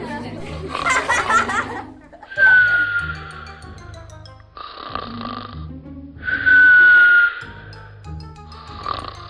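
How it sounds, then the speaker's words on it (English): A cartoon character named Gaura snores loudly in repeated long nasal snorts with whistling rises, each breath cycle separated by short pauses, over a steady low background hum, with no talking during the snores. "Gaura is snoring."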